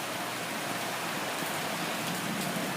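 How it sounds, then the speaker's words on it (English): Heavy rain pours down steadily during a flood in Tempe, Arizona, a dense, constant hiss of water falling on surfaces without pause. "Blessings of rain. Lots of it."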